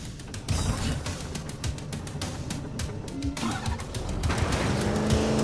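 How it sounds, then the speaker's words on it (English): The Warthog vehicle in the video game Halo drives with a steady engine hum and a few tire-skid squeals, accompanied by a busy rattle of game effects that swells slightly toward the end. "Use a warthog to reach the extraction point, or we'll never make it in time."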